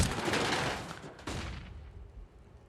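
Gunfire in the game CS:GO during a match highlight, a dense burst of shots and reports crackling over a couple of seconds, loud and close, then tailing off into a duller wash of game noise.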